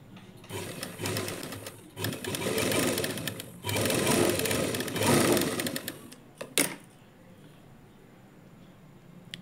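A sewing machine stitches a lining blouse, running in steady whirring bursts for about six seconds with short pauses between runs, then falling quiet apart from a few faint handling clicks.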